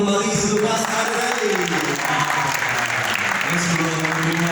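Audience at a talk in Indonesia applauds warmly, a dense, steady burst of clapping lasting several seconds with faint voices mixed in.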